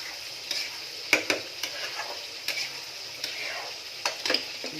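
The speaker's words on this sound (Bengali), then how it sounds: "দেখুন বন্ধুরা, এই মাছগুলো ভাজ করে কড়া করে ভেজে নেবো।" Fish frying crisp in a pan of hot oil, a steady close sizzle broken by sharp ticks and scraping stirs from the cooking utensil.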